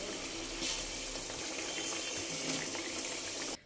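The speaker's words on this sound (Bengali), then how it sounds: "এবার ঝোলের জন্য একটু জল দিয়ে দেবো" Water poured into a pan of cooked-down prawn masala for curry, a steady continuous gush and splash running loud and close for over three seconds before cutting off abruptly.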